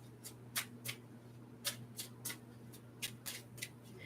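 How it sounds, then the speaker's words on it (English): An oracle card deck being shuffled by hand, with a dozen soft, crisp card snaps and flicks in an irregular rhythm, close and quiet, with no talking. "a lot of times the Oracle decks are really hard to shuffle"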